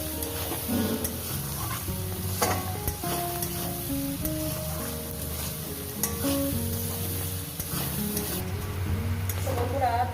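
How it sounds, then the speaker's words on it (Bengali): Onions fry in a pan for a fish curry, a continuous loud sizzle with repeated scraping and tapping of a stirring spoon against the metal throughout. "পেঁয়াজটাকে সুন্দর করে ভেজে নিয়েছি দেখতে পাচ্ছেন"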